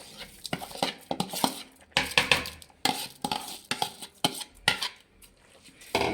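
Washed rice tipped into fried masala in a pan for menthya bath, with repeated clattering of a utensil against the metal pan and stirring scrapes in quick bursts, close and fairly loud, no talk.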